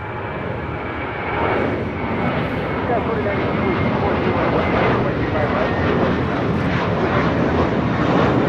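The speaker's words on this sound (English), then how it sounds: "This is Mentally Yours, taking off to JFK. It's flight 524 with JetBlue Airways." A JetBlue Airways Airbus A321 jet takes off from LAX for JFK, a loud, steady engine roar that swells after the first couple of seconds and holds, with a voice faintly audible beneath.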